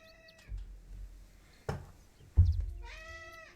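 A cat meows indoors, a short call near the start and a longer, louder meow at the end, with a couple of soft thumps between them during a quiet scene.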